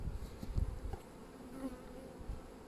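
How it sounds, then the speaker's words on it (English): A dense, steady buzz of many honeybees droning together at close range inside a hive, with a low rumble and a few soft bumps underneath. "I'm amazed that there's that many bees in here"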